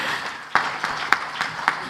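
An audience at a Marathi movie trailer and music launch event claps in a few sharp, scattered, fairly evenly spaced beats, moderately close, over a murmur of voices and room noise.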